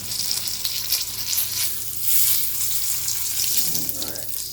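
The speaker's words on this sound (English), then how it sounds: "I'm going to go wash my hands again." Tap water runs steadily into a kitchen sink while hands are washed, a continuous close splashing hiss that swells and eases, with a faint sizzle of frying in the background.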